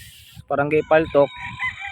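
Gamefowl roosters crow at a game farm in Angat, Bulacan, with two or three loud, close crows in quick succession over faint background farm noise.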